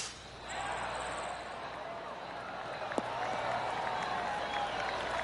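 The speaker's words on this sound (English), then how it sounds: "Oh, golf clap." Polite golf-clap crowd applause in the PGA Tour 2K23 video game after a well-struck shot, a steady wash of clapping that runs the whole few seconds at moderate loudness with no voices on top.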